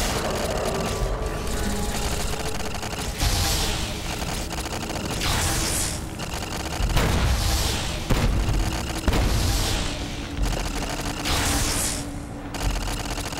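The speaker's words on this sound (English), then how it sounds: "the turret is attacking the bot" Hacked turret firing on a robot in Fallout New Vegas inside the Hopeville missile silo: repeated bursts of automatic gunfire and booming impacts, loud and close, over a steady mechanical background hum.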